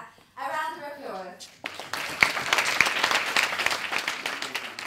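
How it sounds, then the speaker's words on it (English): Audience applause at a global health hack day event, starting after a brief spoken line and building into dense, sustained clapping with a few sharper individual claps standing out. "A round of applause."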